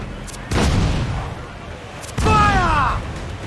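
Ship cannons fire in Assassin's Creed IV Black Flag, two heavy booming blasts about a second and a half apart, loud and close, with a shouted voice over the second.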